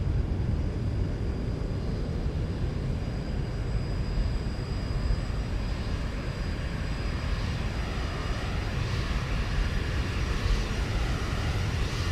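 A Zibo mod Boeing 737 roars past in a flyby in the X-Plane flight simulator, a steady broad jet engine rumble that holds for about twelve seconds without any voices.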